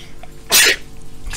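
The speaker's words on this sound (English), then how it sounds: "I sneezed again." A single sharp sneeze bursts out close and loud during a Roblox game session, followed by faint breathy sounds.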